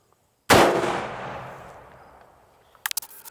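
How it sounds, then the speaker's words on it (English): A single loud AR rifle shot fired downrange outdoors without a silencer, a sharp crack followed by a long fading echo, with a few small clicks and rattles just after. "now to check recoil, I'm going to take it out of the vise and shoot one more downrange"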